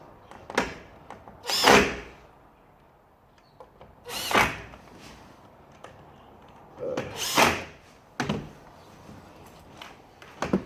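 A power drill drives screws back into a jammed window lock mechanism in four short, loud whirring bursts separated by quiet pauses, with small clicks and handling noises between them and no talk.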